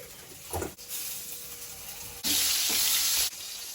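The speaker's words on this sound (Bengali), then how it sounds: "ভাজার ফ্রাই প্যানে বেগুনটা ভেজে নেব" Salted, turmeric-rubbed eggplant fries in a frying pan, a hissing sizzle that swells into two loud bursts and then cuts back, with faint clatter between.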